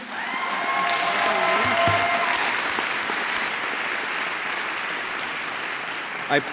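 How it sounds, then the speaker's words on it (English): Audience applause at an awards ceremony, a dense steady wash of clapping from a crowd that holds for several seconds, with a few tonal notes and a brief voice early on. "let's get a round of applause for Ian right here"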